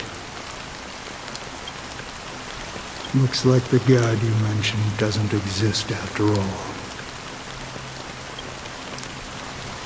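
Rain in the video game Honkai Star Rail: a steady, even patter of falling drops, heard alone at first and then under a voice speaking for several seconds.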